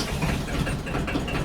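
A tractor engine runs with a steady, rough low rumble close by, the idle chugging evenly without pauses or talk.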